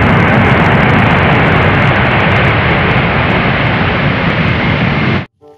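Loud, steady roar of an airplane passing overhead, a broad rushing engine noise that holds for about five seconds and then cuts off abruptly, with no talk.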